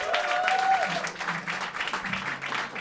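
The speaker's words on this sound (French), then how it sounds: "On peut les applaudir." Audience applauds at a live show, moderate clapping continuing throughout with a brief tonal sound near the start and low voices underneath.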